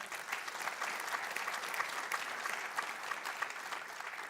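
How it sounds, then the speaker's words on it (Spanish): A Spanish-speaking church congregation applauds, a dense, moderately loud wash of many hands clapping continuously, with no words spoken over it. "Denle un aplauso a Dios por eso."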